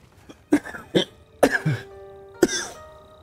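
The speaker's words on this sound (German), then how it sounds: "Boah, sorry, ich muss ein bisschen husten" A man coughs several times in short, sharp bursts spaced irregularly, close and fairly loud, with a throat-clearing rasp between them and no talk.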